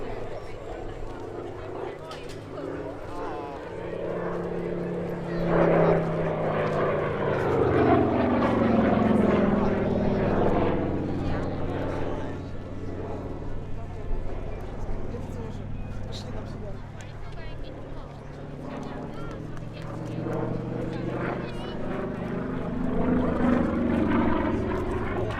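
A Saab B17A propeller bomber flies past at the 2024 Duxford Battle of Britain airshow, its piston engine droning and rising then fading with Doppler sweeps, under a steady commentator's voice.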